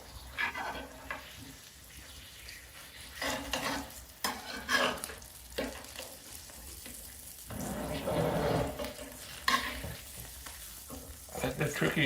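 Brook trout fry in a pan on a wood stove at a cabin, a steady close sizzle broken by scraping, clattering spatula moves as the fillets are flipped, with bursts of louder crackle afterward.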